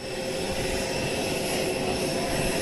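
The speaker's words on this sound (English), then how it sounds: "President Trump's exit, where he will get off the plane and make his entrance here off of Air Force One" Air Force One, the presidential plane, idles at an airport during a 2017 presidential arrival, its engines making a steady, loud, unbroken roar with a high whine on top and no talk over it.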